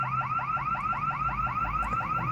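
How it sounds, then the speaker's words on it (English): A car alarm wails somewhere in the distance, a rapid repeating rising chirp pattern cycling steadily, faint and constant against a low background hum. "is that a car alarm?"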